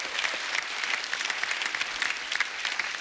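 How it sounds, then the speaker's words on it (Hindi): Dense, even applause from a comedy talk show's studio audience, a steady wash of many hands clapping at moderate level with no pauses. "जोरदार तालियां उनके लिए।"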